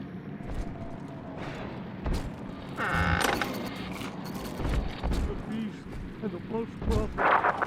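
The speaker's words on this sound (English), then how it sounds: "Mother's people are starting to detonate the charges." Explosive charges going off in BioShock 2, with heavy booms, creaking and metallic rumbling that swell and recede, while a voice speaks under the din.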